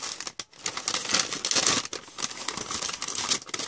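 Close, busy crinkling and rustling of plastic mailer packaging as a mailed package is opened and searched, with irregular crackles and brief pauses, no talking.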